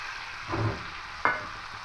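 Roasted Gobindobhog rice tossed with spices and sugar in a pan, giving a soft frying rustle with a brief scrape of stirring midway, close and fairly quiet, no voices.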